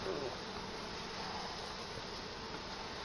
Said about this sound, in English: Lots of bees on the bottom.